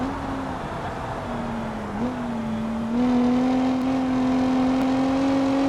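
Car driving fast through a forest in the BeamNG driving game, a continuous engine drone that rises in pitch as it accelerates, loud and steady with no talk.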